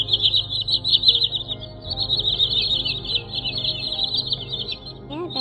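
Recorded green sandpiper call used as a lure for bird trapping: high, shrill whistled notes repeat in a near-continuous run over a faint low background hum.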